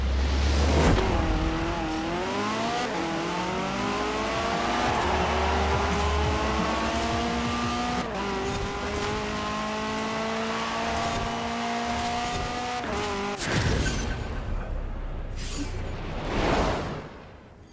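A car's engine revving through rising gear pulls in Forza Horizon 4, steady and loud with audible shifts, followed by a brief whoosh near the end.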